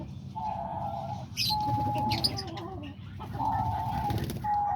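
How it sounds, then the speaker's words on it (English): Diamond doves and small birds in an aviary chirp and sing in repeated clear calls and trills, fairly close, over a busy background of further twittering and soft cooing. "Sometimes I just like to come in here and feed them and just hear them singing and enjoy the little birds"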